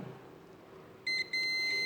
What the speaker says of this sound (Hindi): आप बीप की आवाज़ सुनिएगा